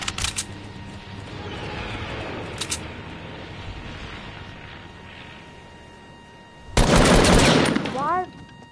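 Gunfire in a shooter video game: brief sharp shots near the start and middle, then a loud sustained burst of rapid fire followed by short whooshing effects, over steady game ambience.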